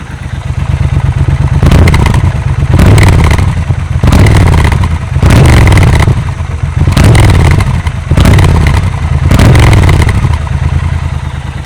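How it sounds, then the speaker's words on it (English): A stock Triumph Scrambler 1200 XE motorcycle engine revs hard in repeated bursts, the loud exhaust note rising and dropping about six times with brief idling between. "So we'll give you a little exhaust."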